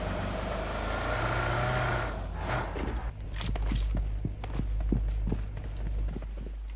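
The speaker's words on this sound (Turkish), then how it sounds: "Nerede? Ses duydum. Ayak sesi." Enemy footsteps in the mobile battle royale game PUBG Mobile, a series of sharp regular steps over low rumbling game ambience, moderately loud and unaccompanied by talk.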